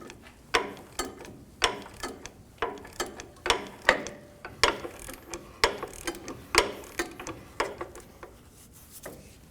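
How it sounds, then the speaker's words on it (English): A ratchet with a 30mm socket loosens a rear upper control arm bolt on a 2019-2025 Ram 2500, giving a close, steady run of sharp clicking bursts in even strokes with no talk. "we're going to hold the nut still while we loosen the bolt"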